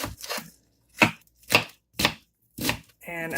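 A knife chopping onion on a cutting board, five or six distinct, crisp chops spaced about half a second apart, close and clear with short silences between.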